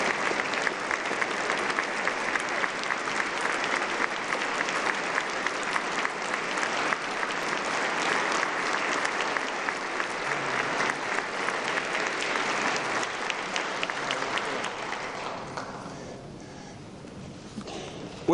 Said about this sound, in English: give them a phenomenal round of applause